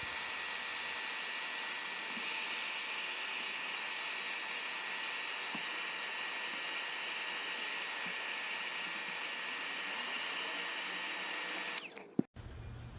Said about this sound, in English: We'll use a heat gun to shrink the tubing to fit.